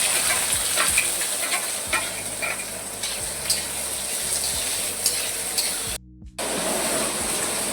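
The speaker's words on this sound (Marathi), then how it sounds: "आपलं तेल तापलंय, आपण त्याच्यात कांदा टाकलाय" Onion frying in hot oil in a kadai makes a steady loud sizzle with occasional spoon scrapes and stirring clicks, briefly cut off near the end, no voices.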